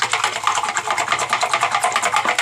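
Stick stirring dissolved caustic soda in water while clearing a blocked wash basin drain at home, giving a steady, close, rhythmic swishing and scraping that repeats evenly throughout.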